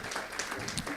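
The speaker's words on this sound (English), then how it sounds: "let's give him a hand of applause as he comes here" An audience at a leadership and business summit claps to welcome a speaker, a short burst of lively, close applause with distinct individual hand claps.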